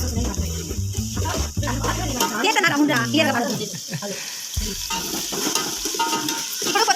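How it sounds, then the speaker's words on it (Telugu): A spoon stirs chicken curry in a pan, scraping and sizzling steadily in the background while someone talks over it. "అలా గిరా గిరా తిప్పాలి"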